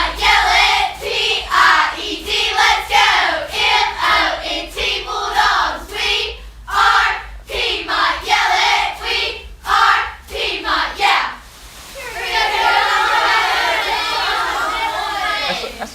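Piedmont Bulldogs cheerleaders chant a spelled-out cheer in rhythmic group calls with bursts of shouting, followed by crowd chatter and some clapping.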